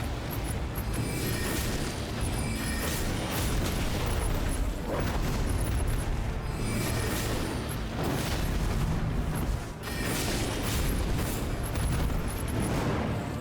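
Cannon fire in Elden Ring Nightreign comes as heavy, continuous booming blasts layered with crackling debris, loud and dense throughout with slight dips between volleys.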